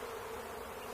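Dense buzzing of a large bee swarm, at least fifty thousand bees, a continuous close drone with no talking, lasting under a second.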